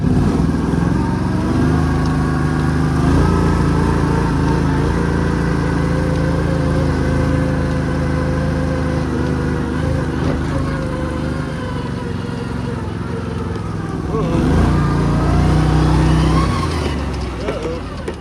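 An Argo amphibious ATV engine running during an off-road test drive after its choke is off, a loud continuous rough drone that shifts pitch as it revs, with people talking over it.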